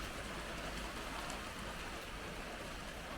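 Steady rain falls continuously outside a garage, a dense, even hiss of drops with no talking and no break over the whole stretch.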